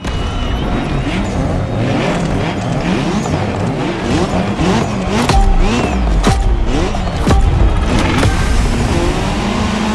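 A race car in The Crew Motorfest video game, in a Red Bull speed clash event, screams through repeated gear changes with rising and falling revs and bursts of tire squeal, loud and continuous.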